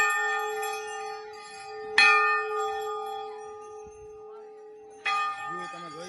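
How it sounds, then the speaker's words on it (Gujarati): Large bells ring at a Himalayan Hindu temple on the Kedarnath pilgrimage route, two loud metallic strikes about three seconds apart, each leaving a long bright shimmering hum that sustains between hits. "મોટા મોટા ઘંટ છે."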